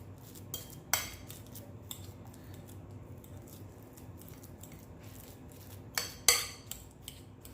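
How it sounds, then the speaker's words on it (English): A fork mashing a ripe banana in a bowl for flourless oat bread, heard as a few sharp metallic clinks and scrapes near the start and again around six seconds, with a soft squishing bed in between. "Just gonna mash up my ripe banana. Just using my fork."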